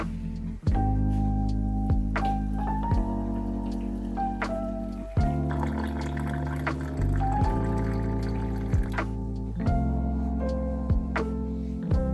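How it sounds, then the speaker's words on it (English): Hot water poured onto coffee powder in a clear glass, a steady near pouring and trickling stream with several brief pauses and restarts, alone without talk. "added some coffee powder, and poured in the hot water, watching the coffee brew in a clear glass"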